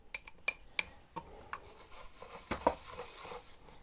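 Stirring sodium thiosulfate into an alkaline fixer solution: sharp scraping and clinking strokes up close, with quieter rubbing and swirling between them, no talking.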